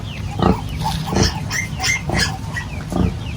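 Hungry piglets on a farm in Glan, Sarangani give a run of repeated grunts and squeals in a steady rhythm, fairly close and moderately loud, with no talking over them.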